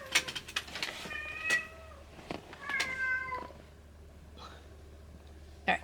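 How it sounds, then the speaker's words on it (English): A cat meows several times, a couple of drawn-out, rising calls followed by fainter short ones, fairly close against a quiet room hum. "that's my older cat meowing now"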